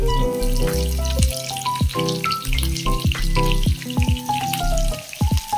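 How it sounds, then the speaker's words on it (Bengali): Ten to twelve garlic cloves fry in a pan for Afghani paneer, a loud, close, continuous sizzle full of bubbling pops and crackles, with no talking. "10-12টা রসুনের কোয়া দিয়েছি। এটাকে একটু ফ্রাই করে নেব।"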